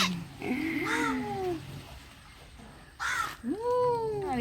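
A peacock gives two loud, wailing, rising calls close by, one early and one near the end, with a quieter stretch between them and no talking.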